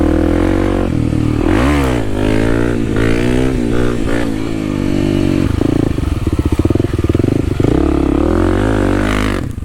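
A Kawasaki KLX300 dirt bike on new tires revs loudly and close while roosting through mud, its engine pitch sweeping up and down with rapid throttle blips and spattering clatter.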